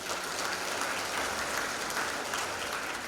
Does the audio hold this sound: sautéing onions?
no